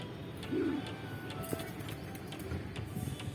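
A mother pigeon and her chick give a soft, low cooing call near the start, with a few faint coos later over a constant hiss of background noise.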